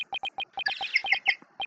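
A bird-chirp phone ringtone in a video game, with a rapid series of bright, evenly spaced electronic tweets followed by a short trilling flourish, loud and close with no talking.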